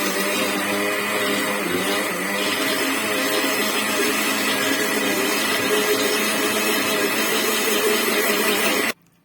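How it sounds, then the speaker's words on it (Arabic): Blender with its lid off grinding freshly toasted sesame seeds into tahini as oil is drizzled in; a loud, continuous close-up whirring roar runs unbroken until the motor cuts off abruptly at the end. "شلت غطا الخلاط من فوق عشان اضرب وانزل بالزيت"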